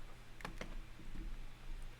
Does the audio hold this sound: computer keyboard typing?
yes